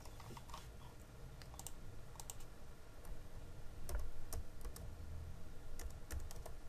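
Soft, rapid clicking of a computer keyboard while data is typed into an Excel spreadsheet, uneven bursts of keystrokes with short pauses, fairly quiet and close with no talking.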